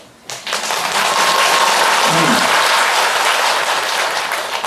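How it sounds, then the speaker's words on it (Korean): A Buddhist temple audience at a dharma talk breaks into sudden, loud, close applause that starts sharply and stays dense and steady for several seconds. "반갑다 하니까 왜 박수를 칩니까?"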